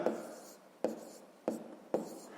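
Pen on paper writing down a math solution, four quick scratchy strokes close by and roughly evenly spaced, with soft rubbing between them.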